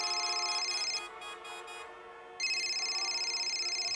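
A mobile phone rings at a police station with an electronic tone. The ringtone plays in repeating bursts that break off briefly and then resume, clear and with no voices over it.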